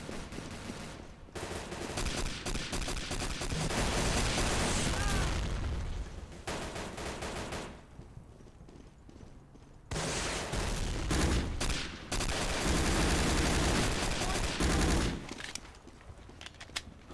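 Gunfire in the video game Day of Defeat Source: dense rapid machine-gun bursts and rifle shots crackle loudly in long stretches, with brief quieter gaps between volleys and no speech.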